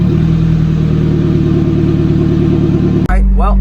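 A freshly rebuilt Nissan D21 pickup engine, a brand new zero-mile KA, idles loud and close with an even steady throb, then cuts abruptly as a voice starts talking.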